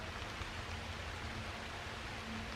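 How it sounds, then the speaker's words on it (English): Steady rain falls outdoors in the North Midwest, a constant broadband hiss with no distinct drops standing out, moderately loud and unbroken throughout. "It's a little rainy"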